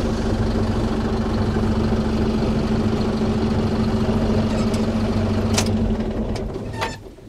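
A large Unimog truck converted into a camper sits idling, its big engine giving a steady, loud low rumble with a constant hum that continues throughout and eases off near the end.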